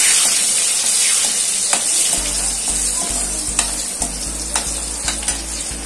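Chopped garlic frying in a pan for chana dal, a steady close sizzle and hiss with occasional clicks of a spoon stirring against the pan, alone without talk.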